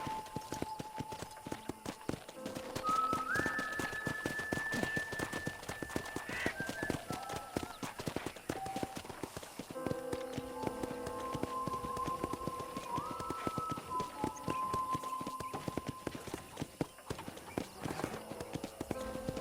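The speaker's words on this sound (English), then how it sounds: "let's see if you can still ride a horse" Steady clip-clop of horse hooves in a rhythmic trot in Red Dead Redemption, running under game music and occasional speech.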